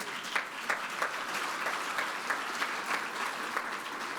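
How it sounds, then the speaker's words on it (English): Applause from an audience at a sustainability conference opening ceremony in Singapore, a steady mid-distance patter of many hands with small periodic swells, no voices over it. "that's another point to clap."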